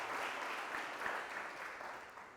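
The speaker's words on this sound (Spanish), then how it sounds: "Los que tienen su manita libre pueden darle un aplauso al Señor, lo hacen." Steady applause from a group in a church class, a dense wash of clapping at moderate level that gradually thins and fades toward the end.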